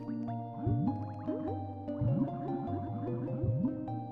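Swimming through water in Banjo-Kazooie: cartoonish springy splash and drip effects that repeat in a steady paddling rhythm, mixed with looping game music, with no voices.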